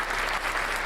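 A brief burst of applause from a small group on a podcast, dense steady clapping for under a second, close and moderately loud.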